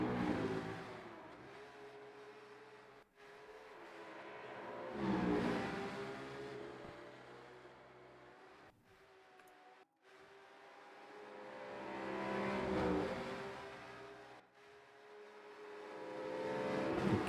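A BMW race car engine in the Rennsport racing game swells and fades twice as the car accelerates and passes. The engine drone is moderately loud and broken by brief gaps.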